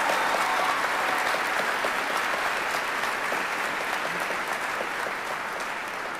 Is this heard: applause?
yes